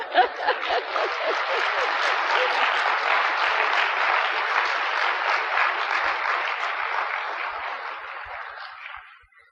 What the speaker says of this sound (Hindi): हाँ खूब तालियां बजाओ